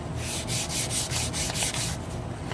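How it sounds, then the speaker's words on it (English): Steady rhythmic hand sanding on a wooden chef knife handle, a rough rasping scrape repeating in even strokes, close and fairly loud, with no talking. "hand sanding the handle"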